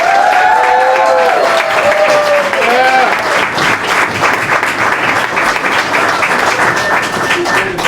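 An audience in an uptown conversation event applauds and cheers to welcome Zohran Mamdani onstage, loud continuous clapping with whoops that starts under a brief spoken introduction and carries on strongly.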